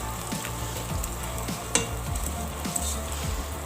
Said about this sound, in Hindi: तो हम पहले आलूओं को गलाएंगे